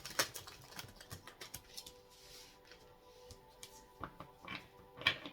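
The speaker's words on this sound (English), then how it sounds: "Last shuffle here before we cut the deck" Deck of tarot cards being shuffled by hand, soft papery riffles and taps in an irregular patter, close and quiet with no talking.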